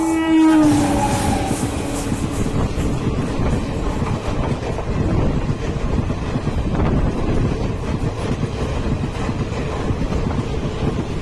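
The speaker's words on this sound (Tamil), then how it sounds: "அந்த ட்ரெயினோட கிராசிங் தான் இருக்கும்னு நினைக்கிறேன்." An express train runs through a level crossing on the Tiruvannamalai–Chennai Perambur line, a short horn blast at the start giving way to a loud, steady rumble and clatter of wheels over the rails as the cars roll past close by.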